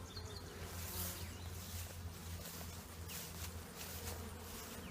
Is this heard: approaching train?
no